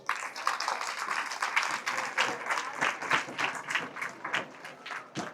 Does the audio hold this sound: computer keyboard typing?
no